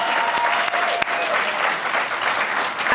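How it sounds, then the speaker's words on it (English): Sustained, loud audience applause at a state senate candidate forum in California's 37th District, an even roar of many hands with a few sharper individual claps standing out. "Can we have another round of applause for Mayor Foley and Professor David Lynn?"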